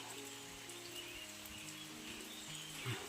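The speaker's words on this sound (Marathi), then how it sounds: "पाऊस बघा चालूच आहे रेप रेप रेप म्हणजे बारीक बारीक पाऊस आपला पडतो आहे" Light drizzle falls steadily outdoors in a village early in the morning, a soft, even, faint patter with no other sounds standing out.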